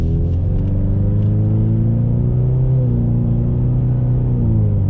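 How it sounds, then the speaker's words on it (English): A 2021 Ford Mustang with the 2.3L High Performance package and its exhaust in sport mode pulls hard under acceleration, a loud, steady droning rumble with harmonics rising and shifting as revs climb, heard close from inside with no talk. "We're in sport, so the exhaust note is set on sport."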